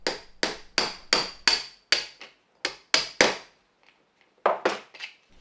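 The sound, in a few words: hammering a copper washer onto a rivet with a steel tool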